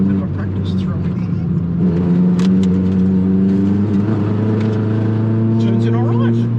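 Mitsubishi Mirage Evo track car on semi-slick tyres, heard from inside the cabin as the engine drones steadily and rises in pitch under acceleration through a corner, loud and continuous.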